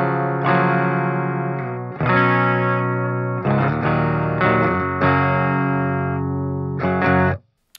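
An electric guitar played through a Digitech Hardwire SC-2 pedal on a clean setting rings out in sustained, shimmering chords with a chorus-like sheen, several strums in a row, loud and close, then stops abruptly.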